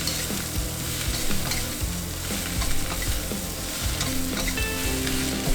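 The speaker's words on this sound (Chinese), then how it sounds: "倒入白菜叶子，这样分开2步加入" Cabbage leaves for sweet and sour cabbage stir-frying in a wok produce a loud, dense sizzle with repeated spatula scrapes and tossing sounds, and no talking.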